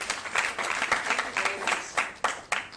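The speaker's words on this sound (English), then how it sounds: "Let's clap hands for Taboka." Audience applause at a national youth gathering, a dense, steady patter of many hands clapping close by for a few seconds, with a few sharper individual claps standing out near the end.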